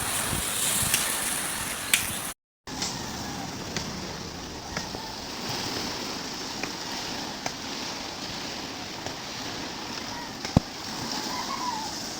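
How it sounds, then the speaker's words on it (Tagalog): Waves wash and slosh steadily along a shore, a soft continuous rush with occasional small splashes. "Ganda pakinggan ng dagat."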